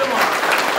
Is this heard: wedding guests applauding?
yes